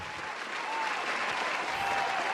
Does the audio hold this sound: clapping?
yes